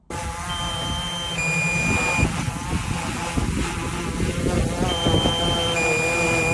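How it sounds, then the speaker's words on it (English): Sustained electronic low-battery warning beeps from a flying drone sound in two tones at intervals over steady motor noise and wind, repeating as an alert. "it starts making this beeping sound as a warning"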